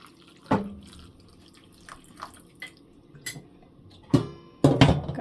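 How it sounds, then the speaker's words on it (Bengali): Hot water is poured and splashed into a pot of broiler chicken drumsticks seasoned with soy sauce, in scattered splashes and drips that end in a louder final pour. "এখানে পানি গরম করে রাখা হয়েছে, দিয়ে দিলাম"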